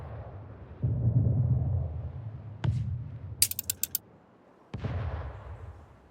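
Naval cannon fire from a flagship in the Anno 1800 strategy game: a low rumbling swell, one sharp boom, a quick burst of several crackling shots, then another heavy blast fading out.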